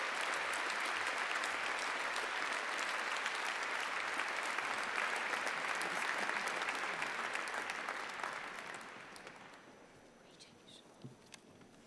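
An audience at an Imperial College postgraduate graduation ceremony claps loudly and continuously for the mathematics graduates, the applause tapering off and fading out toward the end, leaving a quiet hall with faint stray sounds.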